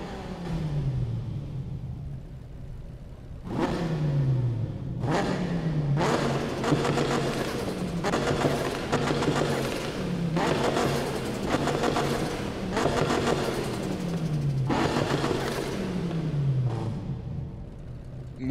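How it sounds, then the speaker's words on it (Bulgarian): In Need for Speed 2015, a Dodge Viper ACR sports car with over 1200 horsepower and twin turbos is revved over and over. The loud, steady engine roar rises and falls in repeated surges, with no talk over it. "това мисля, че е най-шумната кола в играта"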